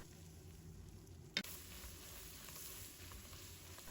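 Sticky rice sauce being stir-fried in a pan gives off a steady, quiet sizzle with soft scraping, broken by one sharp clatter near the middle.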